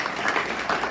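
A church congregation clapping in praise, a dense, steady burst of applause at close range.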